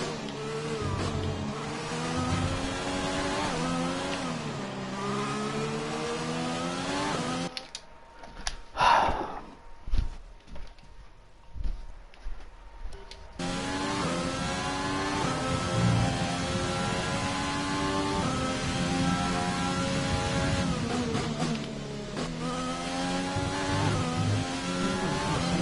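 A Formula 1 race car engine held at full throttle in the F1 2020 racing game during practice in Australia, a loud high-pitched whining drone that drops out briefly midway before returning steady, with no talk.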